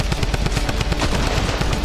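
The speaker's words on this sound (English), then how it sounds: "getting up close and personal with the double barrel" Rapid, dense gunfire from a double barrel shotgun in the Fortnite video game, loud and close with a continuous barrage of sharp blasts over about two seconds, no speech.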